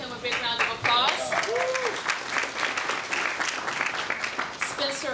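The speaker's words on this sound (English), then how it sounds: "Give him a big round of applause." Applause from an audience at a public event releasing a draft statehood constitution, steady and dense clapping with a few voices mixed in throughout.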